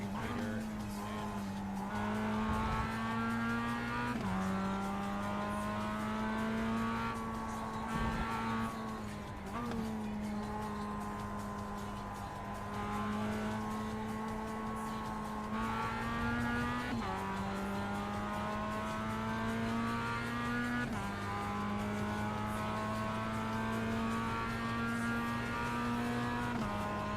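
Race cars in the iRacing sim game roar continuously at close range, engine tone holding steady with periodic shifts and brief dips, with faint tire squeal now and then.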